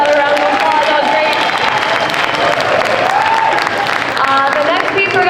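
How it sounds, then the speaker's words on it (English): Audience applause after a taiko drum recital, loud sustained clapping from a crowd, with a voice talking over it and some tonal ringing in the background. "let's give her another round of applause"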